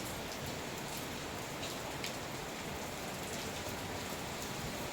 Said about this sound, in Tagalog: Ayan, umuulan.